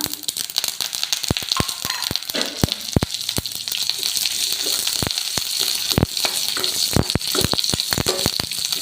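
Curry leaves and split black gram frying in oil in a pan, a constant crackling sizzle with sharp pops scattered throughout, close and alone.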